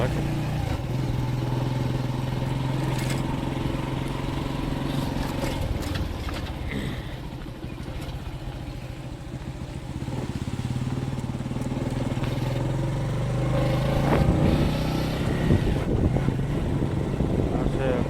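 A tractor's low, rumbling engine chugs steadily throughout, close by along a riverbank, with occasional rattles and clatter as it drives along.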